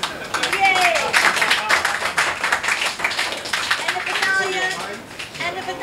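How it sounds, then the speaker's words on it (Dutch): Audience applause and clapping at a Rotterdam poetry club evening in de Schouw, a dense steady patter of many hands filling the room, with voices mixed in under it throughout. "Applaus voor die wakkere geest."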